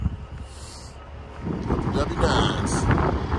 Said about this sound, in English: Hey, it's windy.